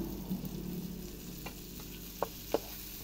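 Chorizo bilbao goes into onions frying in a pan, making a steady soft sizzle close by, broken by a few sharp spoon clicks against the pan near the end.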